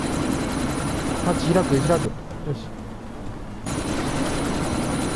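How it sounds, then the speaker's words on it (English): A helicopter engine drones steadily in Deus Ex: Mankind Divided. It is briefly muffled, then returns, while someone talks over it. "chopper's been grounded."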